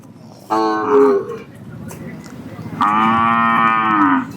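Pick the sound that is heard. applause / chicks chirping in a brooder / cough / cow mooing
cow mooing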